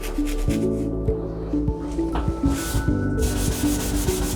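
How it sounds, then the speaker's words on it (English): Barkeeper's Friend is worked into a bathroom stain with rapid, rhythmic scrubbing strokes, close and fairly loud, the rough back-and-forth rubbing repeating about twice per second with no voices. "I'm going to use this Barkeeper's Friend on that stain."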